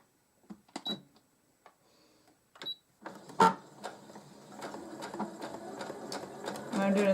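Sewing machine stitching a seam on a denim lap desk, run in several short bursts and then a longer steady hum, close and fairly quiet, with light talk over the first part.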